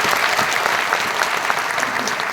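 An audience at a grand appointment-letter distribution ceremony in West Champaran claps for the guests, a dense, loud, continuous round of applause.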